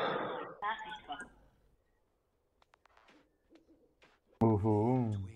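A voice imitates an owl hoot, giving one loud, drawn-out call at the end, after scattered quiet talk and clicks.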